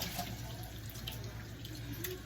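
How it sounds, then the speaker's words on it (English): Warm tap water runs steadily over hands being washed clean of oily product, a continuous close splashing hiss with faint shifting as the hands move under the stream. "I'm just trying to wash my hands in this warm water until they don't feel oily anymore."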